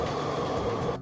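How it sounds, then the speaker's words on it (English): Monorail train rolling past in a steady, loud rumbling whoosh that cuts off abruptly after about a second. "Monorail."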